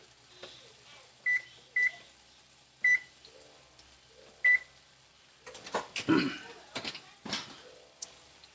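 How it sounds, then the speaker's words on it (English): An oven control panel is being set to 375 and gives several short, sharp electronic beeps at uneven intervals, followed by some soft clattering and handling sounds in a quiet kitchen. "I need to get the oven going. About 375."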